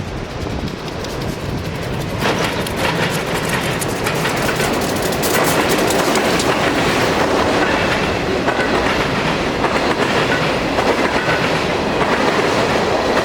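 Conrail freight train passing at Eldred Siding in Pennsylvania's Sinnamahoning Valley: a loud, steady roar of rolling cars with continuous clickety-clack of wheels over rail joints, close by and sustained throughout with no voices.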